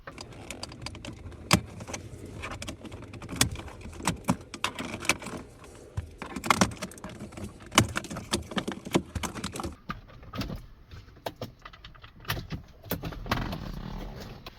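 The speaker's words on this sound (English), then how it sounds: "we're gonna take out this trim piece right here. You just wanna get your pry tool. I start off with one corner." Car dashboard trim is prised loose with a pry tool, giving quiet clicks, taps and plastic snaps in an irregular sequence close by, with no voices.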